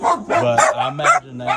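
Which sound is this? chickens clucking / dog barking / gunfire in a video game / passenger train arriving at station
dog barking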